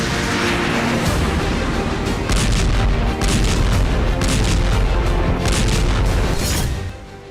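Continuous heavy booms and blasts from explosions on Russian soil, loud and sustained with repeated sharp impacts over a rumbling low roar, ending abruptly.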